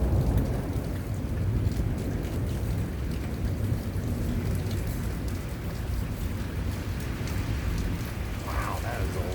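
Heavy rain pours steadily and densely close by during a thunderstorm, a constant rushing hiss with no clear break, while faint rumbles sit low underneath.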